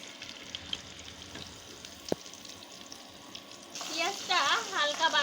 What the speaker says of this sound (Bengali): পেঁয়াজ বাদামি রং হওয়া না পর্যন্ত ভাজতে থাকতে হবে